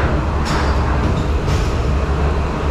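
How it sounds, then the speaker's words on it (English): Steady, loud rumble of a steam locomotive train rolling along, with broadband clatter and a couple of faint higher hiss bursts; no voices. "that is a actual, real, live steam locomotive train"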